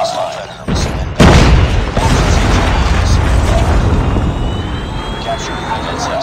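In Call of Duty Mobile, a Predator missile strike lands with a sudden, loud boom, then a heavy, rumbling roar that holds steady and close for several seconds.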